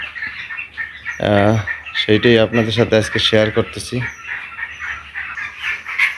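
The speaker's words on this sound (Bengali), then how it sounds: "এখানে 500 ব্রয়লার মুরগি আছে।" Broiler chickens, some 500 birds in a farm shed under fierce summer heat, cluck and chatter faintly in the background while someone speaks over them throughout.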